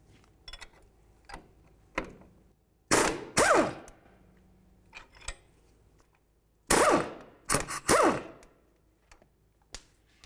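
Ratchet wrench zipping off the 22mm front strut nuts on a 2002-2006 Honda CR-V, several sharp clicking bursts close up, separated by pauses and scattered metallic taps.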